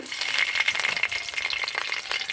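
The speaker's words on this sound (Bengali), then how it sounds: "ওই তেলের ফোড়নের মধ্যে দিয়ে দিব আমি হাফ চামচ গোটা জিরে আর দুটো নিয়েছি চিরা কাঁচা লঙ্কা" Whole cumin seeds and slit green chilies sizzle and crackle in hot oil, a close, bright frying hiss with scattered pops and spits running steadily throughout.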